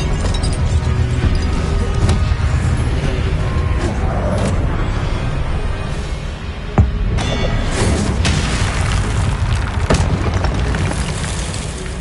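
The Confringo fire-blast spell goes off in the Hogwarts Legacy video game. A loud, dense roar of booming blasts and crackling fire runs throughout, with a sharper crash midway.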